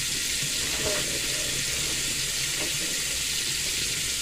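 Steady, fairly loud rush of water from a tap while blue hair dye is washed off hands at a sink, a constant broadband wash with a few faint knocks and no talk.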